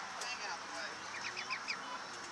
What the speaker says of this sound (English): Aww, you're such adorable birds.